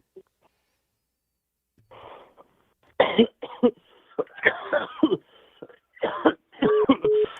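Several sharp coughs in a row, close and loud, with a quiet voice murmuring briefly before and a couple of short tonal beeps near the end.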